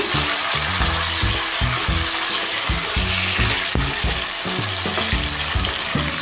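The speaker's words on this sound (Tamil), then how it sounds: "தக்காளி போட்டுட்டு நல்லா வதக்கி விட்டுருணும்" Tomatoes fry in hot oil for brinjal kuzhambu, a loud dense crackling sizzle that runs continuously from start to finish, close up, with occasional stirring and no voices.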